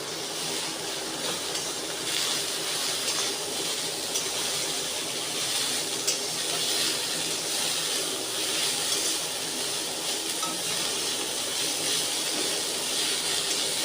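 Raw onion sizzles while frying in a pan, giving a steady, loud, broadband hiss that holds evenly for the whole stretch with no talk over it.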